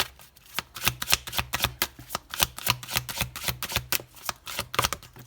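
Oracle cards are shuffled by hand to draw one, a rapid run of crisp riffling slaps in an uneven rhythm, close and fairly loud, with no talking.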